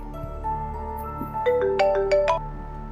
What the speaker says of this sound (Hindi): पता नहीं किसका फ़ोन आ रहा है।